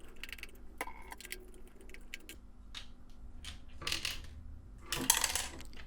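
Loose metal screw rattling inside a broken Commodore 64 joystick as it is shaken, light clicky tinkling in scattered bursts, close and fairly quiet.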